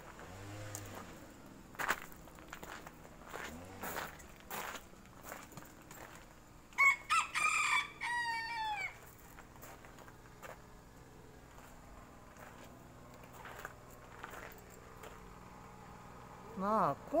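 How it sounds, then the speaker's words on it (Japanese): A flock of chickens at a historic farmhouse crows and clucks in a short loud burst partway through, with scattered footsteps and faint background noise around it. "鶏さんが大集合してますよ。"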